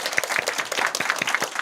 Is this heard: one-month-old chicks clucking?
no